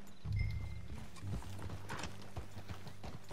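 Horse hooves gallop in Red Dead Redemption 2, a close, steady clip-clop rhythm that runs the whole time with no talking.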